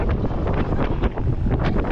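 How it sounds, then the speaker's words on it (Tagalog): Strong wind buffets the microphone in loud, gusty rushes, with rough low roaring surges that rise and fall continuously for two seconds and no voices. "Mahangin dito."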